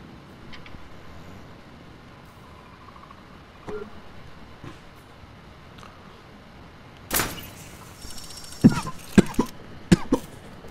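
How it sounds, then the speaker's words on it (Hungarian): A character in Assassin's Creed Chronicles: Russia gives a hiccupy, fitful cough: a few short, sharp bursts close together near the end, standing out over a quiet game background. "Ez ilyen csuklásos köhögés, és az nem jó."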